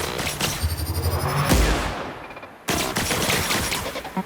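Robots trade rapid gunfire in The Outer Worlds, a dense fusillade of sharp shots and bursts with a heavy boom midway, a brief lull, then the shooting resumes loud and close.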